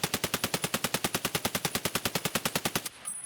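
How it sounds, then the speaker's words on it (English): An RD-704 rifle in a shooting video game empties a magazine of BP rounds in rapid, even full-auto fire, about two dozen loud sharp shots in a steady rhythm before stopping abruptly. "So we'll just shoot off the BP mag and then immediately show you the difference between the US"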